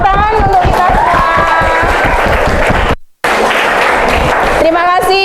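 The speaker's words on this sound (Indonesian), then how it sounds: "Tepuk tangan untuk kita semua." Loud, sustained applause from an audience at a school coaching session fills the space, with voices and cheering mixed in, then breaks off briefly and returns just as strong.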